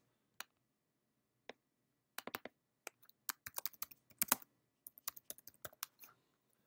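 Text is typed on a computer keyboard into a presentation editor: a few isolated taps, then a quick run of clicky keystrokes at close range against near silence.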